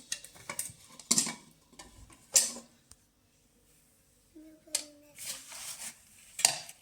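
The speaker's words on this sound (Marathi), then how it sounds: "मी झाकण खोलते." A pressure cooker lid is unlocked and lifted after cooking chicken popati, making a few sharp metallic clanks and clicks separated by short quiet gaps. The sounds are close by and moderately loud.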